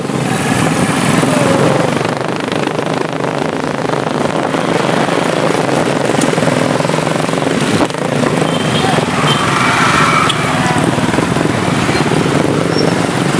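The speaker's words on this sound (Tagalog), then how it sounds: "Siyempre, lagi nauna ang mga may motor." Motorcycles leading a celebratory motorcade on an elevated road in Busuanga, Palawan, with a steady loud engine drone and rushing wind throughout, no clear individual pass-bys.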